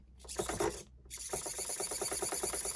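A small MG90 micro servo motor whirs in quick buzzing bursts, stopping briefly then resuming with a steady rapid rasp, close and fairly quiet.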